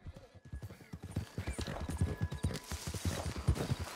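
Horse hooves clip-clop steadily in Red Dead Redemption 2, a brown horse with a white mane walking at an even rhythm, close and fairly loud, with faint game ambience behind.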